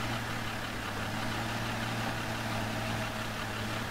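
A tractor engine in a farming video game hums in a steady idle, a constant low droning tone with no change in pace, moderately quiet and heard alone.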